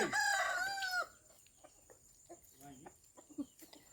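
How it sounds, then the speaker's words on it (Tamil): A chicken gives a loud crow-like squawk up close while being chased by a dog, followed by softer scattered clucks and faint rustling in the background. "நாய் பாருங்க எப்படி கோழி துரத்திட்டு இருக்காங்க"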